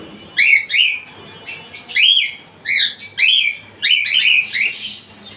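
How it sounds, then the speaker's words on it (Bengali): Two yellow cockatiels loose in an indoor room give bright, rising whistles and chirps in short repeated bursts, close and fairly loud with brief pauses between. "এখানে আছে দুইটা হলুদ ককাটেল।"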